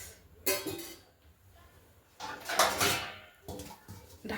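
A spoon scrapes and clatters in a pan as shredded cabbage with turmeric is stirred, in a few short, soft bursts of metallic scraping.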